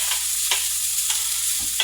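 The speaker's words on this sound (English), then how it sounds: "You hear it sizzle." Ground beef sizzles steadily in a preheated skillet, a constant crackling hiss broken by a few short scraping stirs.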